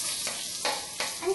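Onions sautéing in a pan with curry leaves, a steady close hiss broken by a few quick stirring pulses.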